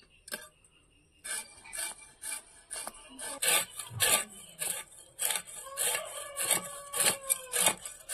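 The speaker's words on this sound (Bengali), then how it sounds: "মাছের আঁশ ছাড়ানো হয়ে গিয়েছে।" Rhythmic rasping strokes as scales are scraped off a large theta peli fish, repeated close scrapes in quick bursts, growing steadier and louder after a quiet start.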